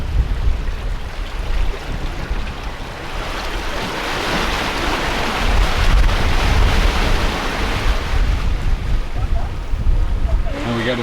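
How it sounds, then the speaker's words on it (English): Ocean waves wash steadily against a sailing boat under way at sea, a continuous loud rush of water and wind noise that swells toward the middle. "Got some waves pushing us along now too."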